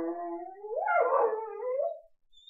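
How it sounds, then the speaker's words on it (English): A dog howls and whines in a long wavering cry that rises, breaks and trails off, loud and close, with no other sound. "Can you hear the dog?"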